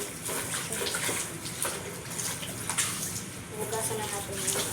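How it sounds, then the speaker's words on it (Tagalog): Plates being washed under running water, a steady broadband splash and trickle from a tap with faint clinks of dishes, close and continuous with some background voice. "Hugasan na natin yung mga plato."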